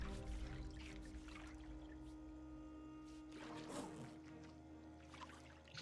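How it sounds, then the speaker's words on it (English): In the survival video game Project Zomboid, water bottles are filled, giving a soft pouring trickle that swells briefly midway over a faint steady background hum. "I also apparently keep failing to fill these water bottles."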